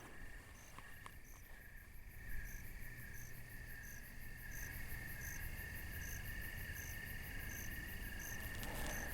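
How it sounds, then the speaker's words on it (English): Dense nighttime insect chorus: steady buzzing and rhythmic high chirps of crickets, katydids and cicadas overlapping continuously at moderate distance. "So we've got crickets. I'm hearing the katydids. I'm also hearing cicadas."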